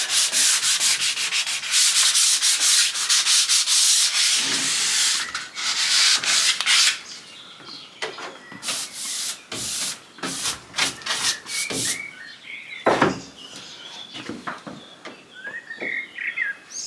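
Someone hand-sands a wooden window frame in steady scraping strokes, loud and close at first, then in shorter, intermittent rubs, while birds chirp in the background.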